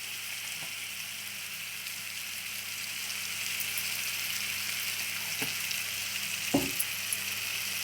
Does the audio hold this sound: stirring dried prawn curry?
yes